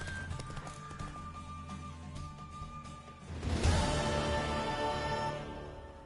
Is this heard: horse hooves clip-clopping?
yes